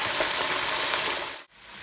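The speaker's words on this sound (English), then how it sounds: "so while them wings frying right now" Constant crackling sizzle of chicken wings deep frying in hot oil, fairly loud, with a brief dip near the end before the bubbling resumes.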